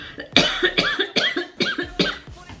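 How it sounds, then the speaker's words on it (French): A series of about five sharp, hoarse coughs in quick succession, close and fairly loud, with short gaps between them. "Je vais encore tousser."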